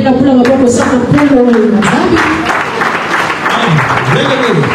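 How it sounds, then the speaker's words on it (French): A church congregation breaks into sustained, dense applause with cheering voices, loud and close, while a preacher's amplified voice carries over the clapping. "Est-ce qu'on peut acclamer pour la parole de Dieu?"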